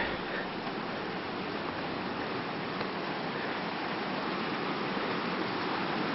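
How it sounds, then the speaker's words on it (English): Creek running through a wet campsite near a mountain pass in California, a steady, dense rush of flowing water, close and unbroken, with no voices. "the creek that runs through."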